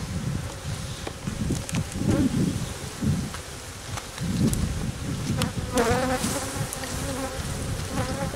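Honey bees buzz densely around the frames of a Layens hive during a honey harvest, a close, steady swarm drone rising and falling over several seconds, with faint handling knocks and no talk.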